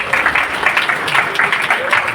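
An audience at a religious discourse gathering at a temple applauding the organizers, a loud, fairly close patter of many clapping hands that pulses unevenly from start to finish.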